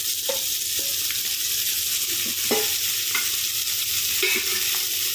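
Broad beans curry fries in plenty of oil, a dense and constant sizzle with occasional knocks and scrapes of a stirring spoon against the pan, close and loud with no voices.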